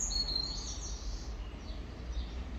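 Blackbird and goldfinch calls in a communal garden: faint, high chirps and twittering drift in the distance over a steady low background hum, with no voices.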